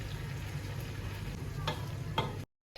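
Biryani masala paste is stirred and mixed in a pot, a soft bubbling sizzle with two clear scrapes or knocks of the spoon near the end before the sound cuts off abruptly.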